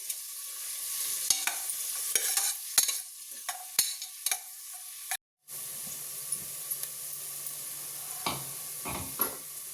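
Onions fry until brown for chicken donne biryani, a soft steady sizzle in the pan broken by intermittent scraping stirs and clinks, one brief gap of silence midway.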